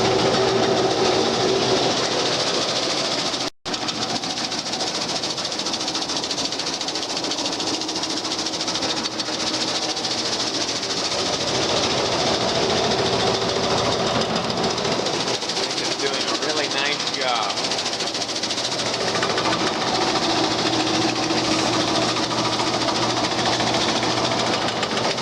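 An Eliminator 224 seed cleaner runs steadily while cleaning guayule seed, its bottom blast fan blowing lighter particles out the back, giving a loud continuous mechanical drone with a brief dropout near the start and speech over it.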